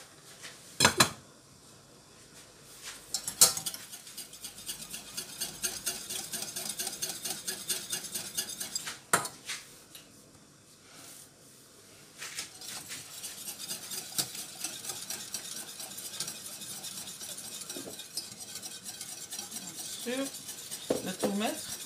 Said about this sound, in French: donc on va tourner jusqu'à ce que ça commence à bien épaissir